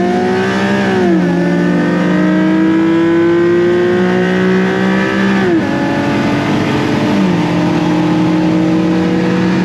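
A Honda Accord fitted with a Type R turbo engine accelerating hard, loud rising engine tone climbing through gears with two clear shift drops, strong and continuous from inside the car.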